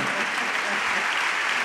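A crowd claps together at a gala event, a full, even wash of applause filling the whole short stretch, close and fairly loud with no voices standing out.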